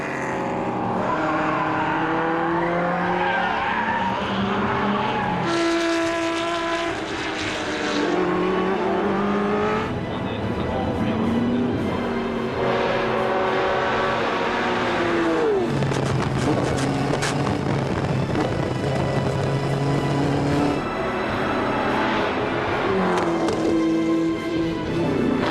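Classic race cars racing at night at the Le Mans Classic, loud engines roaring past one after another with high, whining revs, downshifts and occasional tire squeal, continuous and close throughout with no talk.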